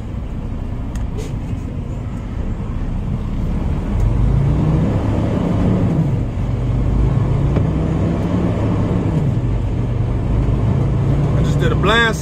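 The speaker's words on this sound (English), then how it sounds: "There's a truck coming." Deep engine rumble of an approaching truck while a tractor-trailer backs around a blind curve. A low drone builds and shifts in pitch over a dozen seconds.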